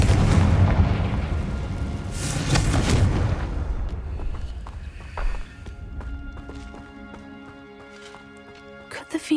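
Fiery spell explosions in the Hogwarts Legacy video game, a heavy booming blast with rumbling debris that fades into clattering mechanical clicks and softer crackles, with voices speaking.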